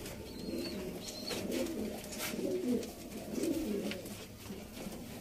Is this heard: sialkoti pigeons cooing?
yes